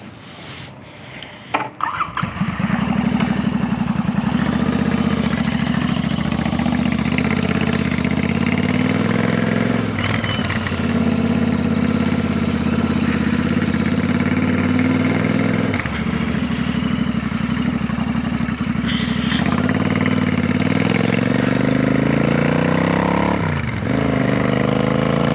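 A 2019 Royal Enfield Continental GT 650 motorcycle being ridden, its steady engine drone loud and continuous, with a brief dip around the middle and a short throttle change near the end, no talk.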